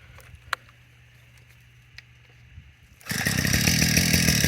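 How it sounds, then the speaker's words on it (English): A Proyama multi-tool engine with a hedge trimmer attachment fires up after a quiet stretch of small clicks and knocks, then runs loudly and steadily at a buzzing, chainsaw-like pitch. "So fixing to restart it after putting the hedge trimmer attachment on and see how she trims."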